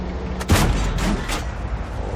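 A tank cannon firing in World of Tanks, one heavy booming shot with a deep rumbling tail, followed by a second softer blast rolling off, close and loud with no talk.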